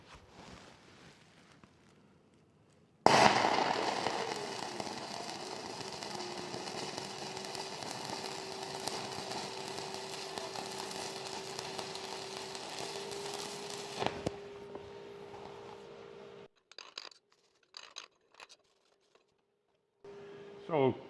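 Stick welding arc on a multi-pass practice weld, starting abruptly with a loud crackle that settles into a steady close frying buzz for about eleven seconds, then cuts off, followed by brief clatter and handling noises.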